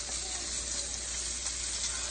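Black fin tuna searing in a hot skillet with oil and butter, a steady close crackling sizzle that carries on evenly with no voices.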